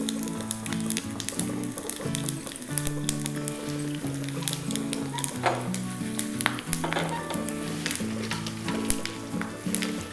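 Urad dal, chana dal and garlic fry in hot oil for a South Indian tempering, giving a steady, close, continuous sizzle with light crackling and a faint tonal background hum throughout, with no talking.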